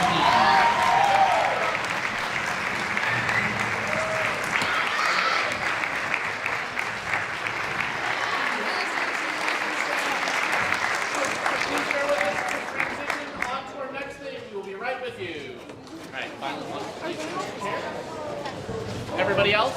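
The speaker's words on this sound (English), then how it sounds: "Let's hear another great round of applause for our wonderful high school musicians and for the high school orchestra." An audience at a high school winter concert gives a long, loud round of applause for the student musicians and orchestra, with dense clapping filling the room and fading slightly near the end, while voices murmur underneath.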